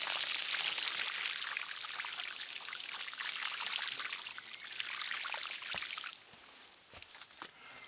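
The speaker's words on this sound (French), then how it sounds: "Un bon arrosage pour bien tasser la terre et je pourrais faire mes repiquages." Water poured from a watering can onto the soil of transplanted squash seedlings, a steady close hissing splash for about six seconds that then thins to scattered drips.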